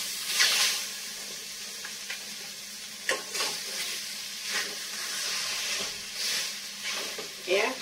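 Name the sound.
khichuri being reheated in a pot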